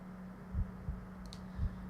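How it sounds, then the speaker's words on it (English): Heartbeat sound effect from the Chaos;Child visual novel game: a few deep, muffled thumps in an uneven rhythm over a low, steady hum, with no voices. "My heart beat loudly once,"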